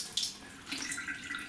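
Cold tap water runs briefly for a sourdough starter made with white flour, a soft, faint hissing splash with no voices.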